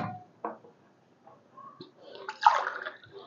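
Water pours into a pot of rice for sambar rice, a soft intermittent splashing that swells into a fuller gush near the end, with small clinks of a vessel between.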